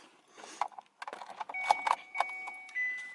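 Car keys jangle and click as they turn in the ignition of a car being fitted with load resistors to fix turn-signal hyperflash, followed by steady electronic chime tones; several close metallic rattles with no talk.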